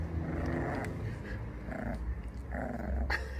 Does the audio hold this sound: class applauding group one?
no